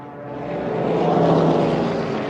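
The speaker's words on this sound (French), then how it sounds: "4000 avions allemands vont bientôt bombarder Londres." German warplanes of the Second World War roar over London, a steady broad drone of many propeller engines that swells in loudness and holds, with no voices.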